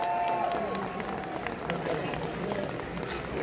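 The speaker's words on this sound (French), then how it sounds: "Allez, monsieur, applaudissements pour le papa." Applause for a father stepping up on stage at a trading card game convention, steady clapping mixed with crowd chatter and murmuring voices throughout.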